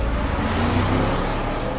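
A car drives off, a steady broadband engine and road rumble holding at fairly loud, close level for the whole stretch, with no voices over it.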